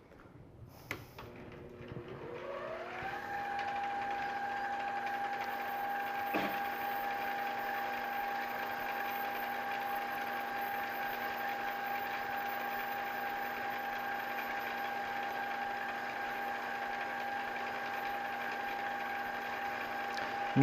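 A metal lathe takes a cutting pass on a bar, turning it down toward 5/8 inch, with a steady motor whine and cutting tone spinning up in the first seconds and then holding level and fairly loud for the rest, with no talk.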